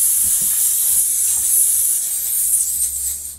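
Butter hissing and sizzling steadily in a hot pan in a chef's kitchen, a continuous close bright hiss with faint low rumble beneath, no talking.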